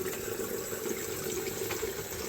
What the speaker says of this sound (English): I'm going to run a little hot water,